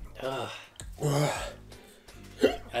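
A single sharp hiccup bursts out close up after eating a fiery Jolo chip, framed by breathy, strained vocal sounds as the spicy heat takes hold.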